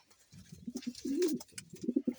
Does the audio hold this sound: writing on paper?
no